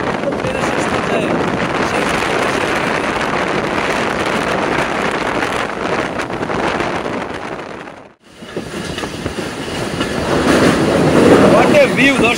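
A Mongla commuter train runs between Jessore and Khulna, heard from the locomotive at the rear: continuous rumbling rattle with heavy wind buffeting, a brief sharp dip around eight seconds, then louder roar resuming.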